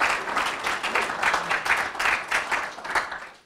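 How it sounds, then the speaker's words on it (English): Audience at a town hall State of the Town address in North Haven breaks into dense, sustained applause, a loud, even wash of many hands clapping that tapers off at the end. "let's hear a round of applause for everybody you see on this screen up here this morning"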